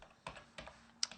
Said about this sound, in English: we're gonna go ahead and type in my file